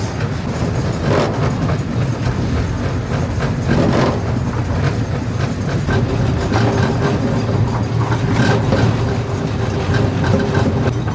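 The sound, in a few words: Melody Ranch Special miniature train ride at Travel Town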